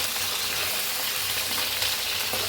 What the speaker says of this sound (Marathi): बघा मस्त भाजायला आलेत मिरच्या आपले